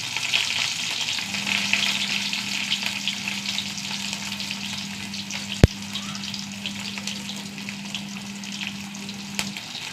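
Mustard seeds, shallots and dried red chillies frying in hot coconut oil, a steady crackling sizzle throughout with a faint held tone in the background and one sharp click midway.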